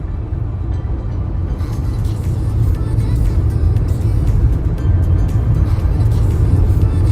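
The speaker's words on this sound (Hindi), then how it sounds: "ये अपन ने कर ली गाड़ी लेफ्ट में और ये ओवरटेक करने वाले राइट से अपने निकल जाएंगे" Van cruising along an Australian highway, pulled to the left as other vehicles overtake on the right; steady, loud engine and road rumble throughout, with a faint hint of passing traffic and no talk.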